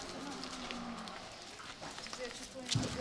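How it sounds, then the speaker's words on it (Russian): Hungry cows jostling over food in Rishikesh, India, with a low moo and scuffling movement heard faintly beneath people talking nearby. "Коровы, судя по всему, голодные."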